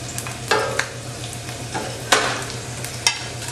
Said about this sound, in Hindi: और जो मैंने ये सूखे मसाले रखे हैं इन्हें सेक लेना है हमें, सूखा हमें सेकना है।